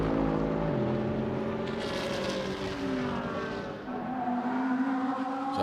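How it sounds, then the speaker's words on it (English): Mercedes GT race car in the ADAC GT Masters at the Red Bull Ring, its engine droning loudly and steadily at high revs through a lap, with pitch shifting as it changes gear. "Car sounds absolutely fantastic."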